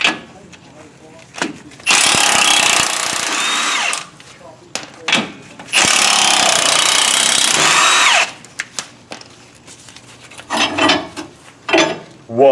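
An impact power tool spins U-bolt nuts off the rear axle of a Chevy Silverado 1500 in two loud, close bursts of about two seconds each, with scattered clanks and brief talk between them.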